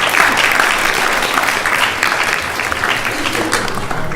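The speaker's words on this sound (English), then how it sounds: "Please give them a big round of applause with their family." A temple congregation applauds at a Sunday feast gathering, a loud sustained wash of many hands clapping that holds steady from start to finish.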